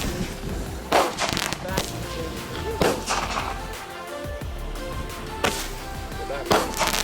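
Mini firework cake going off outdoors, a rapid string of crackling bursts and pops with a few sharper bangs, at moderate distance, with faint voices in the background.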